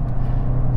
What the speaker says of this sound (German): Ja, Akrapovic tönt und los geht's.